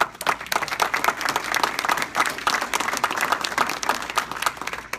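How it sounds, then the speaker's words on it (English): Attendees at an evening community forum on dark stores give a round of applause, lively dense clapping swelling and dipping in waves, close and sustained, with little talk. "you folks all deserve a round of applause for being in this room tonight"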